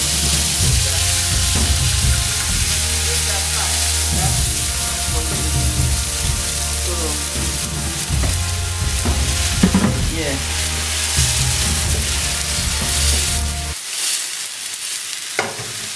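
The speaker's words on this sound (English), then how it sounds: "You can all see the sunflower oil is very hot now. Very hot. So I'm going to put my pepper." Pepper frying in very hot sunflower oil for Nigerian jollof rice gives a loud, steady sizzle and crackle close by, running without a break until it drops away sharply near the end.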